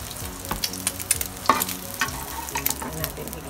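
Zucchini sautéing in a pan gives a soft, steady sizzle and frying crackle, with occasional stirring clicks and scrapes, close and fairly quiet.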